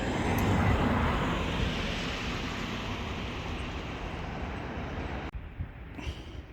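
A Tupolev Tu-134 airliner at Chisinau airport makes a loud, broad jet roar close by that slowly fades over several seconds before cutting off abruptly, leaving quieter outdoor background noise.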